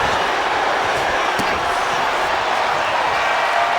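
Dense, roaring arena crowd at a wrestling show inside a coliseum, cheering steadily and loudly throughout with no breaks, a continuous wash of noise.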